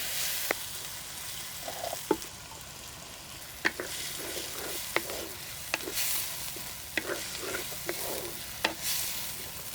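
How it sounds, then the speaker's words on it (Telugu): Onions and green chillies fry in oil in a pan, giving a soft continuous sizzle. Sharp clinks of a spoon stirring against the pan cut in every second or two. The whole scene is fairly quiet and close. "ఇప్పుడు అదే నూనెలో ఉల్లిపాయలు పచ్చిమిరకాయలు కూడా వేసుకుని ఫిఫ్టీ పర్సెంట్ వేగే వరకు వేయించుకుందాం"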